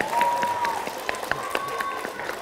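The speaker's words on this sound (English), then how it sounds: "Give her a round of applause as she makes her way to the seat." Audience at a public library magic show applauds, a dense patter of clapping with scattered louder claps and crowd noise, fairly close.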